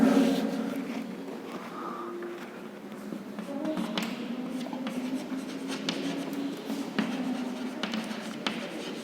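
Writing examples on a board makes a series of close scratching strokes and light taps in an uneven rhythm, with faint voice and room sounds underneath.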